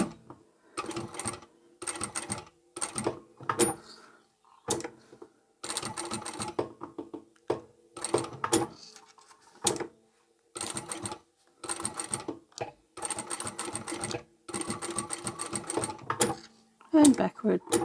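A sewing machine runs in repeated short bursts, stitching a folded fabric hem on a strap with a D-ring. Brief pauses separate the runs, there is one backstitch, and a voice speaks quietly between the bursts.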